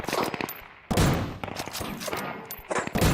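Gunfire in the survival shooter Deadside strafes in several sharp bursts of rapid shots with short gaps between them, loud and close.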